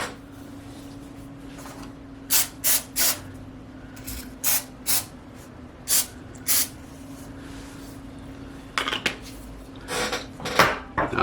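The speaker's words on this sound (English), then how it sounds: "We're going to spray that with cooking oil. And we're using some avocado cooking oil spray." Short bursts of avocado cooking oil spray hiss onto a pan in a kitchen, several quick close sprays in pairs and clusters, with light clinks of cookware and a low steady hum in between.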